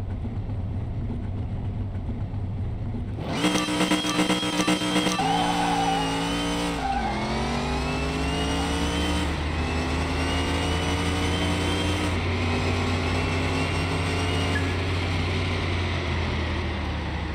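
Ford Mustang Fastback in the Car Mechanic Simulator drag racing game, its engine roaring up through repeated rising rev sweeps and gear changes with tire squeal, loud and close throughout after a quiet start, no talking.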